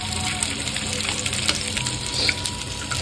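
Continuous crackling sizzle of food frying in hot oil while preparing egg biryani, steady and close with occasional stirring, no voices over it.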